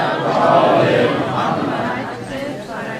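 An audience reciting salawat aloud together, a dense murmur of many voices chanting in unison with a crowd-like wash that swells early and gradually fades.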